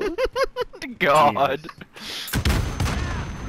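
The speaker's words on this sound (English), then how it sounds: "Oh, someone's shooting." Gunfire crackles in a video game as a quick burst of shots sounds after some excited talk, followed by a noisy stretch of combat effects.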